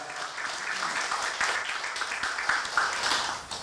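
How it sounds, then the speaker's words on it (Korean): A church congregation gives a big round of applause during a Sunday worship service, a dense wash of clapping that is moderately loud and sustained for a few seconds in a large room. "축복을 해주시는 참 부모님께 큰 박수 올려드리도록 하겠습니다"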